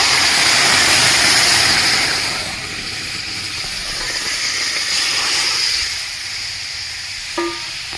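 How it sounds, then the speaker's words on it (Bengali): Chicken stock hits a hot pan of fried vegetables for homemade soup, starting as a loud rushing hiss of steam that eases after a couple of seconds into a softer steady sizzle. "এবার আমি সুপের জলটা চিকেনের জলটা দিয়ে দেবো"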